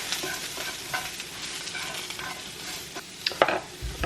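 A seasoned pasta salad mixture stirred in a bowl: a continuous wet, sloshing, crackly scraping with a few sharper clicks from the utensil toward the end, close and alone without speech.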